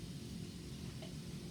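Chicken livers sizzling in a pan on a stovetop, a steady faint hiss of frying fat with no breaks, heard alone.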